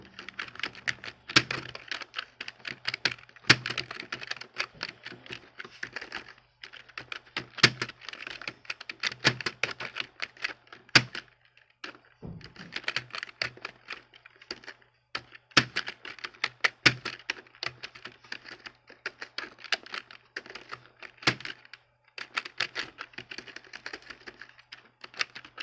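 Rapid, uneven clatter of keys on a computer keyboard while text is entered in Notepad, close and steady with short pauses between bursts, no voices.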